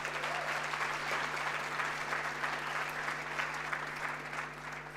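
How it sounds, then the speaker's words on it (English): Loud, sustained audience applause fills a large summit hall at a national ICT event, steady dense clapping throughout with a faint low hum underneath and no voices. "a very loud round of applause"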